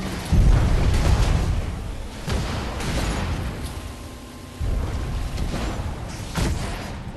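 Napalm explosions and sniper rifle shots in a battle video game, several loud booming blasts in an uneven series, with burning rumble between them.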